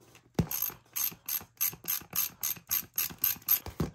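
An 8 mm nut on the wheel of a Traxxas Stampede RC truck is loosened with a ratcheting wrench, one sharp click followed by about a dozen evenly spaced ratchet strokes, close and clear with no talk.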